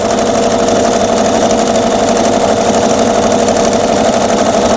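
A home sewing machine runs steadily through free motion quilting stippling, a loud, continuous motor whir with a rapid needle patter that never pauses, close up and with no talking.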